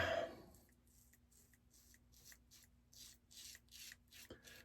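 A Proof Select razor makes a wet-shaving pass against the grain: about a dozen short, rhythmic scraping strokes, quiet and very close, with no talking.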